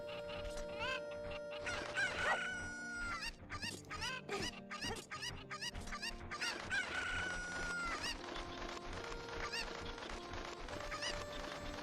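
Cuccos, the chickens of Zelda: Ocarina of Time, cluck and crow in quick repeated bursts over looping game music. Several rooster-like calls ring out clearly throughout at a moderate level, with no voices.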